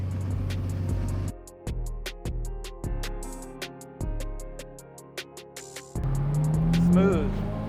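Manual-swapped Lamborghini Murciélago driving, its engine rising and dropping through gear changes with short gaps, then swelling into a loud sustained pull heard from inside the car.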